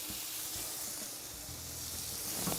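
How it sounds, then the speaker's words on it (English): Bacon-wrapped elk skewers sizzling on a pellet grill, a soft, steady hiss and crackle of fat close by, continuous and fairly quiet with no talking. "You don't think they're sizzling?"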